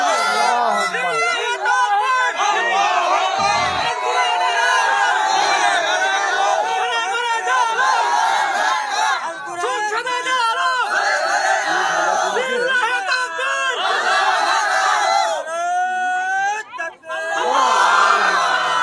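A large crowd at an outdoor Islamic religious gathering (mahfil) chants takbir in loud, sustained, overlapping voices, with cheering and whooping mixed into the continuous babble of the mass of people.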